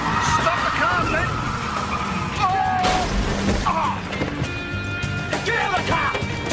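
A car engine runs through a tense police stop, with a rough low rumble under loud, chaotic action: a crash, skids and sharp impacts, while voices shout over the top.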